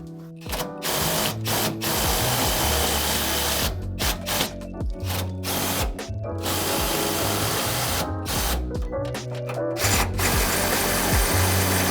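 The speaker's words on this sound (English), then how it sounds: "a lot of times I'll use an impact with a 5/8, or you could use another wrench or something along that size to hit the head of it" Impact wrench tightening the nuts on a Hellwig adjustable rear sway bar on a 2019-2020 Ford Ranger, loud repeated mechanical rattling bursts with short pauses between them, close up and with no talking.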